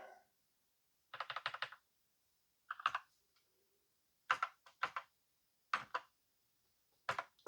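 Bursts of clicky key presses on a Commodore VIC-20 keyboard fitted with a BlingBoard come in short quick clusters separated by pauses, fairly quiet and close, with no talking.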